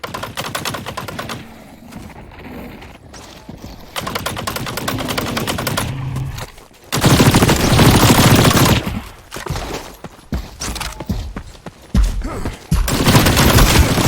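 Gunfire in the shooter game The Cycle: Frontier, with loud, rapid automatic bursts and single shots broken by short pauses, all close and harsh with no talking.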